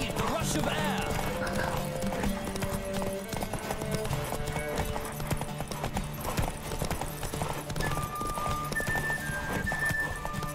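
Horse hooves galloping in a steady clip-clop rhythm in The Witcher 3 video game, loud and continuous under game music and an occasional whinny.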